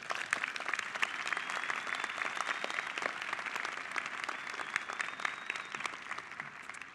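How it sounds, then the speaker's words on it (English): An audience at the 132nd National Louis University commencement applauds to welcome the speaker, a steady, full round of clapping from a large crowd that lasts the whole stretch and tapers slightly at the end. "Ladies and gentlemen, please join me in welcoming today's speaker, Robin Steans."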